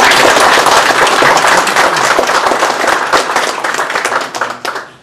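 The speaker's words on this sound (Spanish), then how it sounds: "es oportuno reiterar el fuerte aplauso para ellos" Strong, dense applause from an audience at a municipal tribute to journalists in Sullana, loud and continuous, thinning out toward the end.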